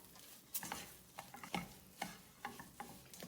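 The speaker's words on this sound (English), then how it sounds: "About 3/4 of a teaspoon of salt, and we stir fry this." Upma stir-fried with salt in a pan, a spoon scraping and stirring in repeated strokes over a low, steady sizzle, close and fairly quiet.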